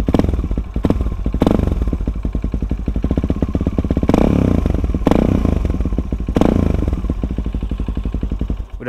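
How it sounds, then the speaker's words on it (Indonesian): A Suzuki DRZ 400 supermoto's single-cylinder engine revs repeatedly at close range, loud throbbing pulses swelling into several sharp blips and falling back to a rapid idle, with no voices over it. "Coba kita geber, tapi jangan terlalu digeber juga."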